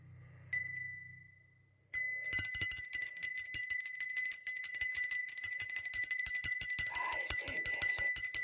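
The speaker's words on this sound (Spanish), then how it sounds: "Sonido de campana" A bright bell strikes once, pauses, then rings rapidly and continuously with a sustained metallic shimmer, fairly loud and close, no voices.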